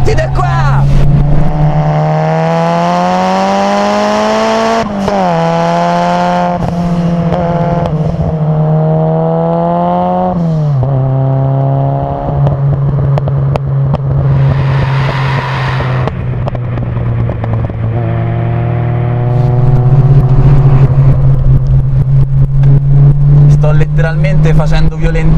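A Renault 5 GT Turbo or Megane RS F1 Team sports car is driven hard, its engine loud and close, rising through the revs and dropping with each gear change over a long stretch, with some talk underneath.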